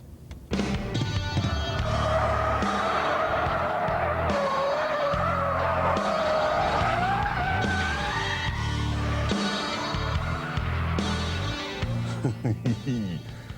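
A 370 horsepower supercharged Jaguar spins its wheels with traction control off, tyres squealing in a long, loud, wavering howl over the revving engine, continuous for over ten seconds.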